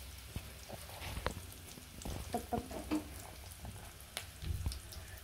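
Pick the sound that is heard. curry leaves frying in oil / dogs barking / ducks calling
curry leaves frying in oil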